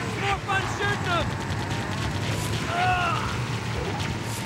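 A gunner fires from a Warthog during Halo combat, sending a steady stream of loud shots and booms through dense battle noise while synthetic electronic zaps and tones rise above it.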